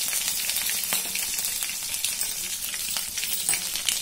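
Cumin, mustard seeds, dried red chillies and curry leaves frying in hot oil for okra buttermilk curry, a dense close crackling sizzle with scattered sharp pops throughout, no talk.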